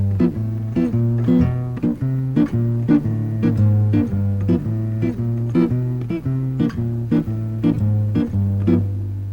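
Short, crisp guitar chords strummed steadily on the off beat over a sustained bass, a regular choppy rhythm with no voices.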